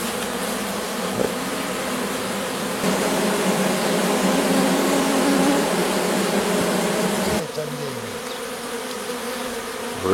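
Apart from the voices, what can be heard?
swarm of honey bees buzzing around a hive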